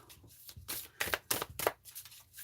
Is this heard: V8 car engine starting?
no